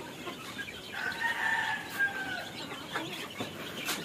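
Native backyard chickens and chicks being fed make a faint mix of clucks and a drawn-out crowing call, with scattered peeps and light movement in a quiet yard.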